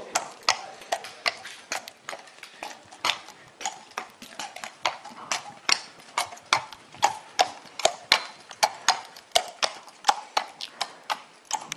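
Horses walk among mares, their hooves landing in a steady, sharp clip-clop rhythm of repeated knocks that continues evenly throughout, fairly close and with no talk.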